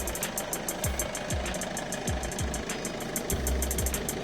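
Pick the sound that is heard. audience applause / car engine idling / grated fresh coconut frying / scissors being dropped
car engine idling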